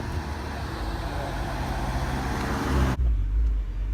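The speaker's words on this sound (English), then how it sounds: "He wants to rev, so we're gonna rev." An early-generation Dodge sports car with a roughly 500 hp engine, parked on a Tampa street, gives a steady, loud, rumbling rev that holds for about three seconds and then cuts off abruptly, leaving only a low idle.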